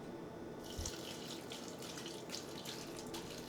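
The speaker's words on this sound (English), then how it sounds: "So I'm adding 2 cups of the vegetable broth." Vegetable broth pours into the container of a Vitamix 780 blender in a home kitchen as a steady, close, splashing liquid stream that runs for about three seconds after a short quiet start.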